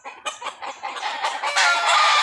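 Several chickens cluck and squawk in a dense, overlapping chorus, close and fairly loud, building in intensity toward the end with no talking.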